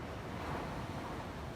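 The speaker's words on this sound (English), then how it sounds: "No hay como el sonido del mar." Rough ocean surf with a strong current rolls in as a steady, continuous wash of breaking waves, full and close with no lulls, and no voices over it.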